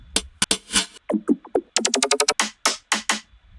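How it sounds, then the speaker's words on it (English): Percussion loop from a neurofunk-style sample pack, an irregular pattern of sharp, clicky hits and quick rattling bursts with brief gaps between them, played alone. "And percussion loops, they sound like this."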